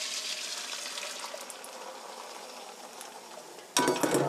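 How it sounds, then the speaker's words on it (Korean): Beaten eggs poured into hot oil in a pan for scrambled eggs, giving a steady bright sizzle throughout that swells into a sudden louder burst of crackling frying near the end. "풀어놓은 달걀 넣어주세요."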